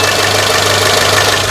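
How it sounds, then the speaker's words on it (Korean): A Samsung New SM5 petrol engine idles steadily up close, a loud, even mechanical hum with a low drone and light ticking, with no speech. "엔진 소리도 양호한 소리, 이제 잔잔한 휘발유 엔진 소리 들려주고 있고"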